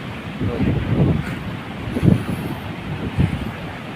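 Surf rolls onto the shore in broad washes, with gusty wind buffeting the microphone; no voices, a steady roar rising and falling every second or so.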